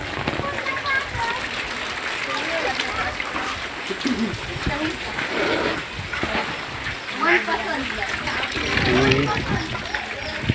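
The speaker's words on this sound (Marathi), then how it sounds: "धबधबा आता जवळच आहे" Rushing water from a waterfall at Anand Wadi near Neral in the Konkan hisses and splashes steadily nearby, mostly under people talking.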